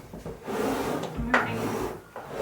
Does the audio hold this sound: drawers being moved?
yes